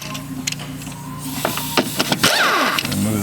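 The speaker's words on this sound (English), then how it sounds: "3/8 drive impact gun." A 3/8 drive impact gun with a 14mm socket works the rear shock bolts on a 2008 Honda Odyssey, close and loud, with short mechanical bursts followed by a sustained rattling whir.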